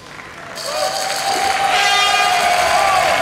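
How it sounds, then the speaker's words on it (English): A large crowd at the 2006 Karate World Championship roars behind a French team's performance, a dense, loud wash of cheering that swells and holds steady. "as we can hear the crowd behind them"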